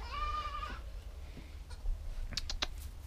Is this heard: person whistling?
no